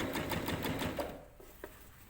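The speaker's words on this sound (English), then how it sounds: "now you're going to top stitch on top of the top stitch you've already done" Nearby sewing machine top stitching a seam on summer shorts, a fast rhythmic needle clatter that runs for about a second, then stops, leaving a quiet pause with a faint click.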